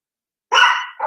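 A single loud, close dog bark followed by a shorter second bark right after.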